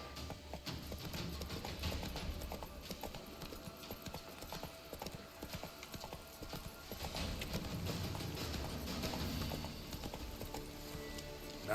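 A horse in a video game clip-clops steadily at close range, hooves beating in a continuous even rhythm over ambient game sound, with an occasional whinny.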